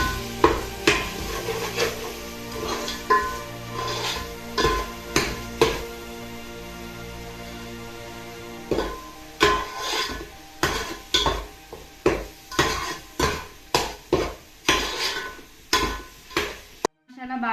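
A spoon stirs and scrapes masala in a pan for a fish curry, a sharp clanking scrape-and-tap rhythm repeated many times over soft frying sizzle, close and clear, with a short pause midway.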